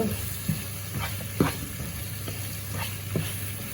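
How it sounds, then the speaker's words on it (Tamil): A spice powder mixture stirred nonstop in a pan over medium heat: a gentle sizzle with a spatula scraping the pan at intervals. "அப்போ ஒரு முப்பது செகண்ட் இப்படியே விடாமல் இதை கிளறி போட்டு"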